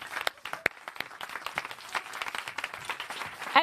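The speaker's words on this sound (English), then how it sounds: "I think you have earned your applause." An audience applauds dancers who have come out on stage, a brief burst of close, dense clapping that holds steady throughout.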